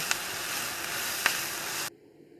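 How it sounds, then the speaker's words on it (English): Onions sizzle steadily in a pan as they caramelize for a vegan Greek lemon rice soup, a continuous broadband hiss with a couple of faint ticks, cutting off abruptly near the end. "Our onions are starting to caramelize nicely here."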